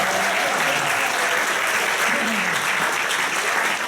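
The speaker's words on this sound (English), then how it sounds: "You guys should give yourselves a round of applause for this wonderful theater." Theater audience applauding at a live Broadway-style musical show in Fuquay Varina, North Carolina, a dense steady wash of clapping that fills the room at even loudness from start to finish.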